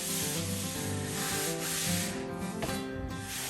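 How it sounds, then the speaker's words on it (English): Bare hands rub dust off a planed wooden surface during French polishing, giving soft, continuous brushing strokes at close range with no talking. "Taking the dust off with the moisture in my hands."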